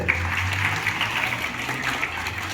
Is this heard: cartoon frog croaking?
no